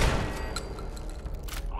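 A Mark V turret fires in Fallout 4, a dense loud burst of heavy booming gunfire with metallic ringing tails that rolls on through the whole moment, with no talking.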